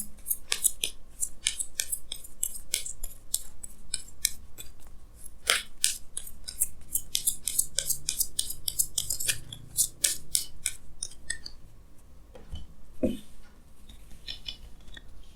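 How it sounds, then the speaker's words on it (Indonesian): Tarot cards being drawn and shuffled at close range: a dense run of crisp, papery snaps and flicks that comes in bursts throughout, with short pauses and a few sharper slaps, without any talking. "Di sini saya akan tarik lagi 2 kartu tambahan."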